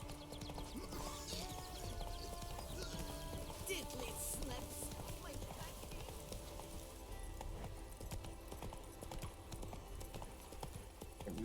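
Galloping hooves of Geralt's horse Roach in The Witcher 3, a steady clip-clop running through a vineyard, continuous and fairly close under game ambience and music, with voices talking over it.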